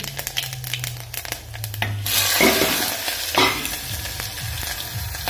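Panch phoron spices and chutney hit hot oil, with light clinks and scrapes at first, then a sudden loud sizzle that swells and persists with stirring.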